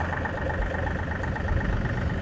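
A 2023 John Deere 2038R compact tractor engine runs at a steady low idle, a continuous close rumble with no pauses or revs.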